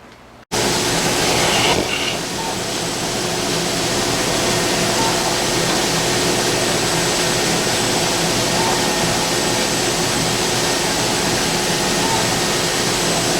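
A weft knitting machine runs steadily, forming knitted fabric as its cylinder winds. It gives a continuous loud mechanical whir and clatter that sets in after a brief quiet start and holds unbroken throughout.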